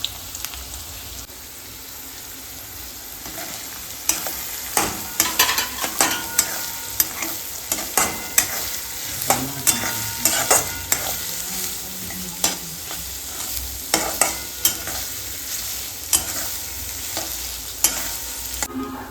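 Chopped onions frying and being stirred in a pan for a paneer curry at home, a steady close sizzle broken by frequent sharp scraping clicks of a spatula, no voices.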